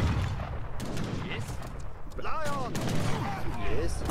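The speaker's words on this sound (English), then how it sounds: "Big cannon, please shoot." Heavy cannon booms from Age of Empires 3 ring out amid a busy clatter of battle noise, with chirping and whooshing effects layered over a steady rumbling background.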